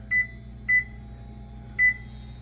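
Three short, clean electronic beeps from an oven timer being set in a home kitchen, evenly spaced and fairly close, over a faint background hum with no talking.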